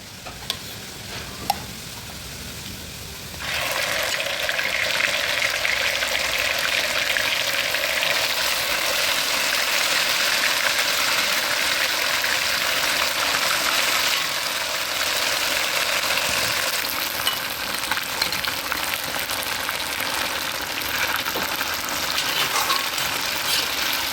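Garlic and chicken pieces, cooking for a Cantonese chicken dish with mushroom and asparagus, sizzle loudly and steadily in a hot pan, with a faint clatter at first and an unbroken hiss after the chicken goes in.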